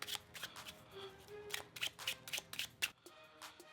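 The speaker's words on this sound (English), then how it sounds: "We'll start off by giving the deck a quick shuffle." Quiet, crisp riffling of a card deck, a quick series of snapping flutters close by with no talking.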